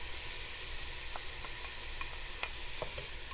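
Sausage and diced onion browning in a pan, a steady close sizzle with scattered light pops and ticks over the whole stretch.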